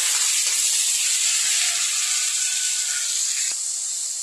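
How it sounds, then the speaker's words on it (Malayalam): Chopped onions and green chillies sautéing in a hot pan, a strong continuous hiss of steam and sizzle close up, with a few faint clicks and no voices. "ഇതിലോട്ട് അരിഞ്ഞു വെച്ചിരിക്കുന്ന സവാളയും പച്ചമുളകും ഇട്ട് കൊടുക്കാം വഴറ്റി കൊടുക്കാം"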